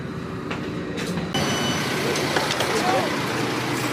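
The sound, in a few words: passenger train arriving from Berlin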